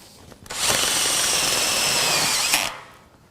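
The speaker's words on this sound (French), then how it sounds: "je vais pouvoir visser la lambourde sur la solive" A power drill drives a screw fastening a joist onto a beam of a steel terrace substructure, one loud, close whine lasting about two seconds with a sharp start and stop.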